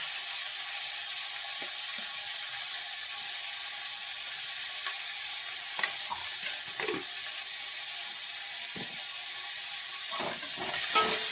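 Chicken curry with homemade chilli powder is stirred in a pan, giving a steady hiss of sizzling broken by a few soft scrapes and knocks of the spoon, close by and without talk.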